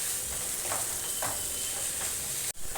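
Potato and pointed gourd curry with peanuts being stirred in a pan, a steady close sizzle of frying with soft periodic scrapes of the spoon, no talking.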